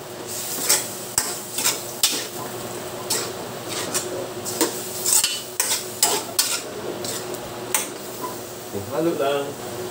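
Chicken halang halang stirred in a cooking pan, with repeated sharp scrapes and clinks of a utensil against metal over a steady low sizzle, close and fairly loud.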